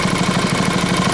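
A small tiller engine running steadily after being repaired, a loud, close, even putter with a quick regular pulse and no voices over it.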